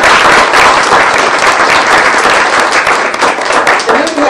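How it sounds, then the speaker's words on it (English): Audience at a 2022 university college ribbon-cutting ceremony applauds the standing faculty: loud, dense, sustained clapping from a large crowd that fills the whole stretch without a break. "please give your faculty a round of applause"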